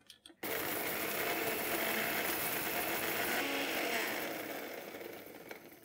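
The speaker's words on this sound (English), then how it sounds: "Let's grind these spices till they're absolutely fine." An electric grinder whirs loudly at steady speed, close by, grinding whole spices for a Lucknowi mutton biryani to a fine powder. It starts abruptly after a brief clatter and eases slightly near the end.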